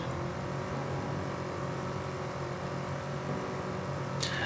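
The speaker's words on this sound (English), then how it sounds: "the reason engines sound so bad in Farming Sim" A vehicle engine from the Farming Simulator 25 video game drones steadily and loudly throughout, a dense continuous hum with a brief higher whoosh near the end.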